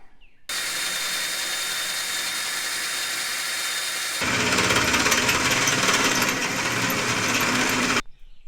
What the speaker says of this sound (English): that was a bit of a challenge drilling out those 3 holes